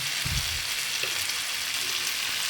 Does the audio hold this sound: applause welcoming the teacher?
no